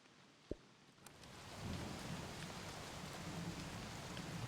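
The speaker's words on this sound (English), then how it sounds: "The sound of the rain, I feel like is a good thing to put somewhere." Rain in a video game, a soft steady hiss of falling drops that swells after a brief sharp tap, continuing evenly and faintly with no talk.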